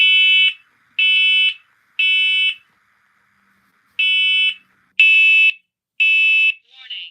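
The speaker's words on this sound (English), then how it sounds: "It will just do all the alarms demo, so it'll be loud." A fire alarm in demo test mode sounds loud repeated electronic beeps, six evenly spaced half-second tones with one gap in the pattern, ending on a shorter warbling chirp.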